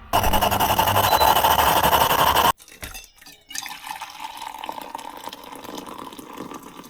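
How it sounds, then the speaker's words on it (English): A loud, steady rush of liquid pouring for a couple of seconds, then it cuts off, leaving quieter trickles and handling sounds. "Hold on, Max, that was a good pour."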